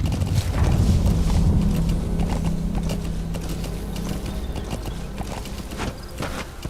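D-Horse galloping in the Metal Gear Solid V video game, a steady run of hoofbeats under a dense wash of game noise and low rumble, fairly loud and continuous throughout.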